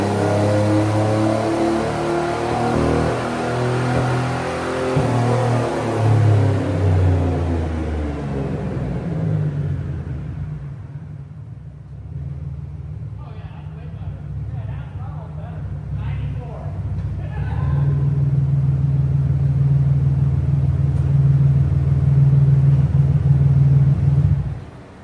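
A Beretta GTZ engine held wide open on a chassis dyno, rising through a loud droning rev, dropping off to a lower idle-like rumble, then climbing back to a sustained hard pull before cutting off, heard nearby.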